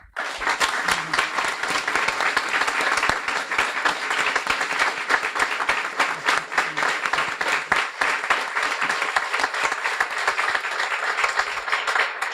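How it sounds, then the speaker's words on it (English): Sustained applause from a sizable audience at a guide dog school graduation ceremony, dense and steady clapping that carries on for the whole stretch without pause. "please stand up so we can give you all a round of applause."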